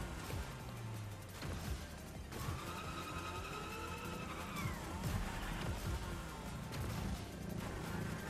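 A car engine revs continuously in the Rocket Racing video game, a dense, steady roar of motor and track noise with scattered impacts and a pitch sweep midway, and no talking.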